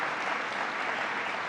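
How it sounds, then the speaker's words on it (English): Audience applause at a governor's STEM education event in New York, acknowledging a corporate donation; a brief burst of dense, steady clapping from a sizable crowd with no talk over it. "Let's give a round of applause to Amazon."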